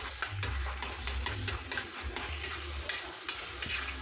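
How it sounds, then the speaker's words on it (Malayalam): Star fruit jam cooking down without sugar in a pan, stirred continuously: steady scraping and bubbling sizzle with rhythmic stirring strokes, close and fairly loud, no talking. "ഞാൻ കണ്ടിന്യൂസ് ആയിട്ട് ഇളക്കിക്കൊണ്ടിരിക്കുക"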